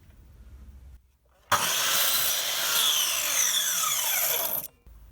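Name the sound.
mitre saw cutting wood for campervan cupboard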